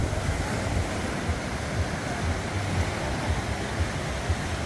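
Ocean waves wash onto a clean sandy beach at Sayulita, Mexico, a steady broad roar of surf with soft recurring swells, heard up close and alone with no talking.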